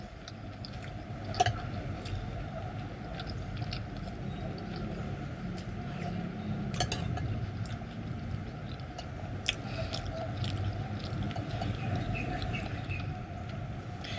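Close, continuous wet chewing of chewy squid in tom yum rice soup made with lemongrass, kaffir lime leaves, shallot, chili and pork broth, with soft squishy bites and occasional sharper crunches throughout.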